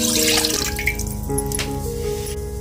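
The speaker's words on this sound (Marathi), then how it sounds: "एवढीच वाटी पाणी टाकते।" Water poured from a small bowl into a pot of roasted haleem (garden cress) porridge in a home kitchen; a steady splashing pour with drips, with faint sustained tones in the background.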